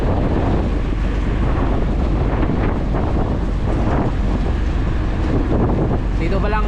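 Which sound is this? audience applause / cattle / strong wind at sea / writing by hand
strong wind at sea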